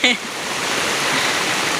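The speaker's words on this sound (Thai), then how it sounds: "วันนี้มาเที่ยว น้ำตกครับ ดูครับหน้าฝน ฝนตกพอดีครับ" A waterfall during rainy-season rain roars as a loud, steady, close wash of rushing water, with a brief voice at the very start.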